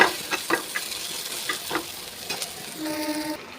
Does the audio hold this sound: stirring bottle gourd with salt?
yes